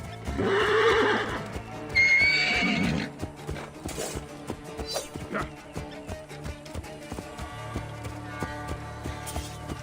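In the Assassin's Creed Origins video game, a horse neighs loudly twice, followed by clip-clopping hooves and scattered game sounds with music underneath.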